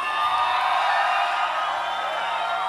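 A concert crowd at a show inside the Hard Rock Hotel in Las Vegas, cheering and whooping as a broad, steady roar of many voices, loud and sustained throughout.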